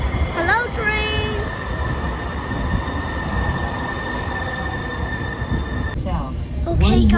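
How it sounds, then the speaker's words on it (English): A train pulls into a station with its wheels squealing and metal screeching against a heavy rumbling roar that rises again near the end, loud and close. "And also the sky, and also our train is coming."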